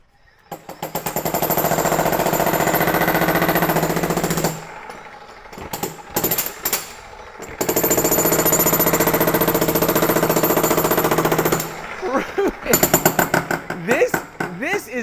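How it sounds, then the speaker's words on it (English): Makita XGT X2 80-volt cordless breaker hammering in loud, sustained rapid bursts, with a pause and brief stop-start blows between two long runs, close by. "this is now going to be the world's most powerful cordless breaker"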